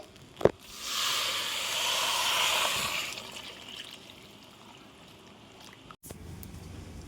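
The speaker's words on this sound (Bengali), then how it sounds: "এখানে ফুটন্ত জলটা দিয়ে দেব" Boiling water is poured into a pan of rice for chicken polao. A sharp knock comes first, then a loud rushing pour hisses for about two seconds before easing into a quieter fading sizzle.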